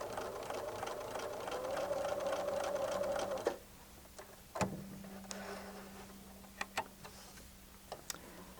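A sewing machine runs a steady stitching whir for about three seconds while sewing a diagonal corner seam on fabric squares, then stops; scattered clicks and small taps of handling fabric follow in a quiet room.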